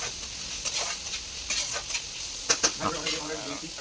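Soft crackling sizzle of onions frying in a pan, with small pops and spits scattered over a steady hiss.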